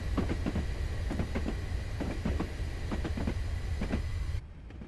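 A train rumbling along with rhythmic clickety-clack of wheels over rail joints in a West Highland Line train simulator game, loud and continuous as it brakes, then cutting off abruptly near the end.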